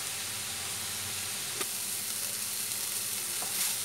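Red spinach (lal shak) frying in a pan over a high flame as its water cooks off, a soft, steady sizzle and hiss with an occasional faint stir.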